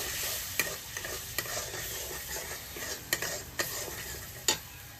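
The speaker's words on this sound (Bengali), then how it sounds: "দিয়ে আমি মশলাটা ভালো করে কষে নেব।" Spice paste with a little water sautéed in a pan, a continuous low sizzle with a handful of crisp spatula taps against the pan at uneven intervals, close and moderately quiet, with no voices.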